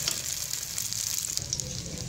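A slice of bread fries in a pan for a fried egg sandwich, producing a steady, soft sizzle with light crackling throughout, close and without any talk.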